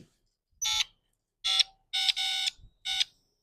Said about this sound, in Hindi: कुछ आवाज़ें जो है ना सिटी जैसी देख रहे हो, रेडियो जैसे आवाज़ें फिर भी चल रही है